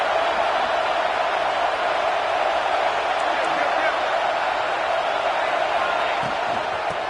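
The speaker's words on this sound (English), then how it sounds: "Listen to the crowd energy here in the early going." Stadium crowd at a Nebraska versus Ohio State football game, a dense continuous roar of many voices filling the air at steady loudness, with a commentator talking over it.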